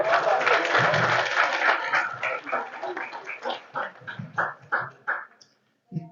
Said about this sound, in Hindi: इतनी कच्ची कच्ची तालियां ना बजाएं।